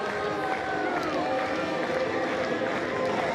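A baseball stadium crowd at a Kentucky vs West Virginia college game roars in a steady, dense wash of cheering, with an announcer talking over it throughout.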